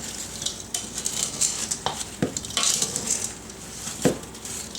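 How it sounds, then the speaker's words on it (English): A utensil stirs strawberries in syrup inside a pot, making soft wet swishes and occasional clinks against the sides. The sounds are close and irregular, and no one speaks. "Then you're going to give this a really good stir and try not to mush the strawberries."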